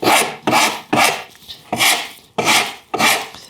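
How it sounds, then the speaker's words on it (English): A coarse rasp, worked with its curved side, files aggressively along a wooden edge to shape a chamfer, producing about six loud, rhythmic scraping strokes in quick succession with brief gaps between them. "So I'm going to go in here with the curved side of my coarse rasp."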